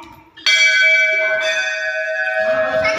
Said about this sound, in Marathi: यांची मजा आली घंटा वाजवताना नुसतं.